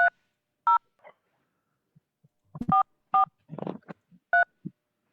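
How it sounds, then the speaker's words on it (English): Several separate telephone DTMF keypad tones ring out clearly one by one at an uneven pace, with short quiet gaps, a few soft thumps and brief murmurs in between. "I want to dial the other one here in a second"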